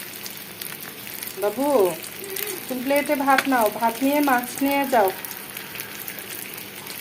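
Fish fries in a pan until deep reddish-brown, giving a steady, close sizzle throughout while a person talks over it.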